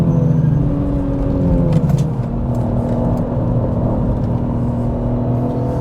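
A BMW E46 M3 climbing a hill at high revs, its engine a steady, close, loud drone whose pitch shifts slightly as it pulls, heard alone.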